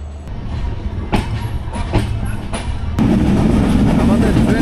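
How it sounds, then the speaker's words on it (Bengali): Ekota Express train running at over 80 km/h between Akkelpur and Santahar Junction at night, a steady close rumble that grows louder and heavier partway through, with sharp clanks from the cars. "আমাদের ট্রেন কিন্তু দুর্দান্ত গতি নিয়ে 80 কিলোমিটারের উপরে গতিসীমা নিয়ে চলাচল করছে।"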